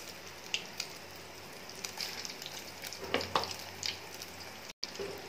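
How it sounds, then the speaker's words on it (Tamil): Egg-coated idli pieces frying in hot oil for chilli idli give a steady soft sizzle with scattered pops and crackles, close and moderately quiet, with no talking. "ஸோ நல்ல பொன்னிறமாக பொன்னிறமாக வந்து பொறிச்சு எடுத்துக்கோங்க"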